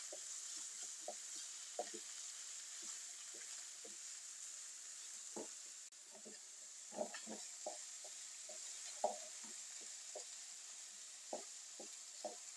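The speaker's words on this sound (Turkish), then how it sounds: "kavurmaya devam ediyorum." Eggplant with pepper and garlic is stir-fried in a pan: a faint, steady sizzle runs throughout, punctuated by soft scraping and clinking of the stirring utensil at an irregular pace.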